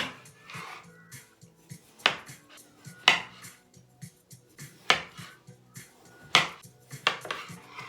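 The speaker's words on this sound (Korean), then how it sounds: "플로럴 폼을 베이스보다 더 튀어나오게 잘라서 넣어주시고요" Knife cutting floral foam to fit a vase, a series of separate crisp cuts and taps spaced about a second apart, with quiet handling between them.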